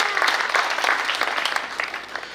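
Light clapping comes from the audience at a Hindi poetry recital, scattered and moderate, easing off as the applause fades.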